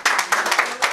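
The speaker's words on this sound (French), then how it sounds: "Voilà, applaudissez pour elle." Audience applause for a singer at a church worship gathering, a short burst of lively clapping from a group, close and fairly loud.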